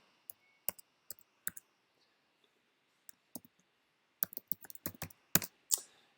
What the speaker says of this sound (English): And you click login.